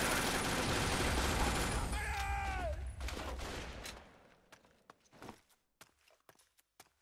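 Gunfire in the video game 50 Cent: Blood on the Sand rattles loudly in rapid bursts, then thins to a few scattered, sharp shots and footsteps as the noise fades toward near silence.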